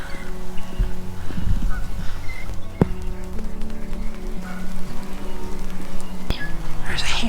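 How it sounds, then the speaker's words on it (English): Ducks call several times outdoors in a snowy spot, while melting snow drips from the trees with a steady rain-like patter and a few louder knocks mixed in. "I hear ducks."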